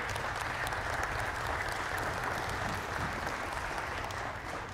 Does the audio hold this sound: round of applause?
yes